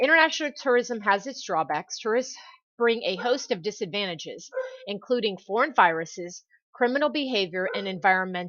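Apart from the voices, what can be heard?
No everyday noise stands out behind the speech.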